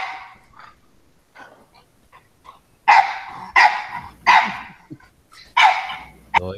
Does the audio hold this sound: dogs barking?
yes